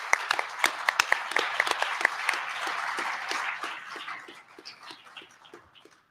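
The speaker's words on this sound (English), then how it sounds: "Big applause for that" Conference audience at a convention in Las Vegas applauding, a steady wash of clapping from a room of people with a few sharper claps up front, tapering off after about four seconds into scattered claps.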